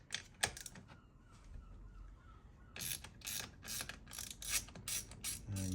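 A ratchet spanner undoes the 10 mm battery terminal nut on a Hyundai i10, giving a few clicks and then a rapid run of close, crisp ratcheting clicks in quick bursts.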